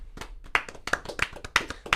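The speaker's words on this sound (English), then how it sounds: "Clap it up" A small studio audience claps to welcome a guest, sharp individual handclaps from a few people close by, uneven and brisk, with no talk over them.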